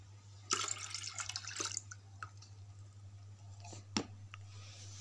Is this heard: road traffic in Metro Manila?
no